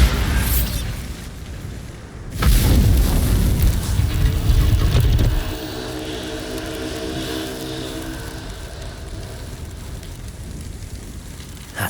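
A Bombarda spell explodes in Hogwarts Legacy with a loud, heavy boom. Its roaring, crackling blast carries on for about three seconds, then fades into quieter ambience with no talk.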